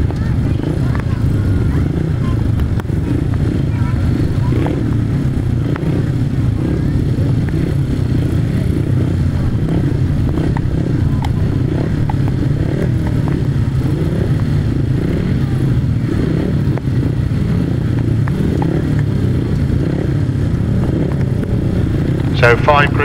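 500cc sidecar racing outfits idle and rev their engines at the start line of an international grasstrack race, a continuous distant motor drone from across the track under loud steady commentary.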